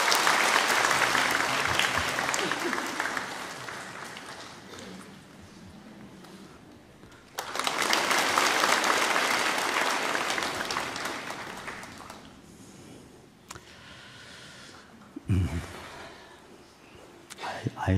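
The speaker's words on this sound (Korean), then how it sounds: "우리 박수로 축복합니다." A church congregation applauds during a Sunday worship service, a dense wash of clapping that swells twice, fades in between, and tapers to scattered claps at the end.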